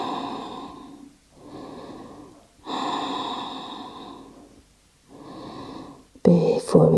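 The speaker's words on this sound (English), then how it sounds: "Take deep breaths." Deep, slow breaths during a Pilates full-body workout, four long inhale-exhale phases in a steady rhythm, close and clear, ending in a brief louder burst of noise.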